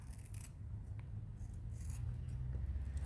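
Scissors cut through a sponge to trim off a yellow section, giving a close, continuous soft snipping and rasping over a low background hum.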